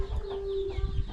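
Chicks kept near paddy being dried give brief, thin cheeps over a low steady hum in a short, fairly quiet moment.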